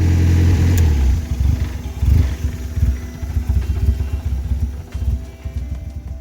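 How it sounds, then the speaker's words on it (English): A Mazda Miata engine runs loudly up close, a low rumbling idle with a steady, slightly uneven pulse throughout. "the engine sounds healthy. It's idling well"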